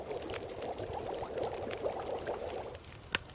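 Water bubbling and boiling over a fire in the survival game The Long Dark, a steady low churning gurgle lasting a few seconds before a single faint click near the end.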